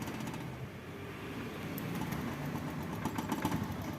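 A Honda Beat scooter engine with a sputtering fuel-injection fault, just after its injector was cleaned, runs at a steady, fairly quiet idle with a continuous mechanical chug and no breaks.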